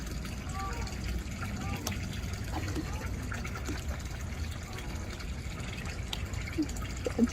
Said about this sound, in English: you're down there hearing the water